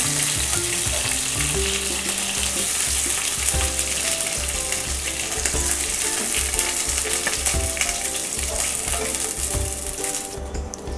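Katla fish fry in a pan of hot oil with a loud, constant sizzle and crackle, punctuated by scraping and clinking as the pieces are turned, with no talking.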